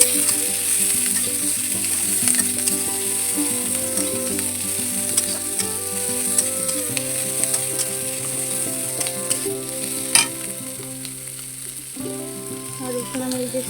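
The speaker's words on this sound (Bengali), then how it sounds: "এই যে পেঁয়াজ দিয়ে দেবো অল্প তেলেই রান্নাটা হবে" Onions frying in a small amount of oil in a home kitchen, giving a steady, close sizzle that runs unbroken through the clip over a sustained tonal hum, with a few scraping stirs.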